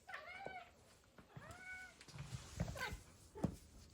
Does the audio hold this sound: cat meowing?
yes